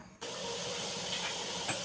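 Steam escapes from a pressure cooker on a stove while aviyal vegetables cook inside, a soft, steady hiss that starts suddenly and continues evenly, faint and unaccompanied by talk.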